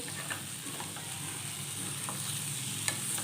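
Pointed gourd fries in oil in a pan, with a continuous sizzle and intermittent scraping and clinking as it is stirred. The sound stays steady and close throughout.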